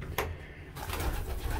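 Racing pigeons coo inside a loft, a short soft burble after a brief bird noise, heard alone and close.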